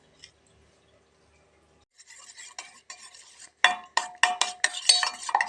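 Chicken liver sukka masala mixture being stirred in a pot: near silence at first, then quiet scraping builds into a run of loud, close, rhythmic scraping and clinking strokes toward the end, without any speech.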